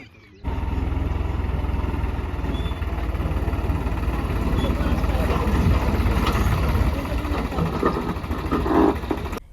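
A tractor levels farmland in Solapur, its engine a loud, steady close throb with a rapid low pulse that starts abruptly and runs continuously, swelling slightly toward the end.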